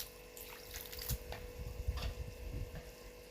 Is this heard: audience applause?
no